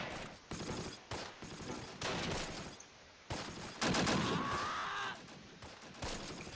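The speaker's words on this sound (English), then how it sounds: "MG42s are so freaking overpowered, it's ridiculous." Bursts of MG42 machine gun fire crackle through a Close Combat: Last Stand Arnhem battle, several rapid volleys separated by short pauses, loud and close with a whistling sweep near the end.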